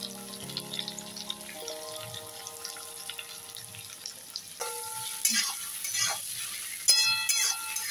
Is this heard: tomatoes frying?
yes